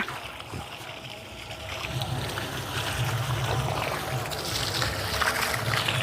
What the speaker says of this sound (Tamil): பார்த்தீங்கன்னா இப்போ தண்ணி விடுறேம்மா.